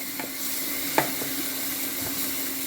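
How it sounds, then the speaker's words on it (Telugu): Tamarind paste with half a teaspoon of turmeric frying in a pan for a brinjal and jackfruit-seed curry, a steady soft sizzle with a couple of brief stirring scrapes. "ఇప్పుడు ఇది కూడా కొంచెం వేగాలి"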